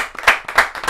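A few podcast hosts clap together in the studio, three or four close, loud, sharp bursts in under a second.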